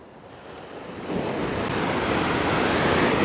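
Ocean surf breaks on a beach at Kalbarri, Western Australia, during a fishing session, building into a loud, continuous rushing wash with some wind noise.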